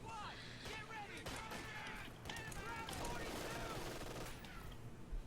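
An MG machine gun fires in a Company of Heroes 2 match, with rapid rattling bursts and scattered shots mixed with battle noise while a commentator talks over it.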